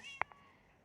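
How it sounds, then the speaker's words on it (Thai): A cat in the video game Minecraft gives one short, sharp meow followed by a fainter second mew a moment later, heard alone over quiet background. "แมวของตันสองสามตัว"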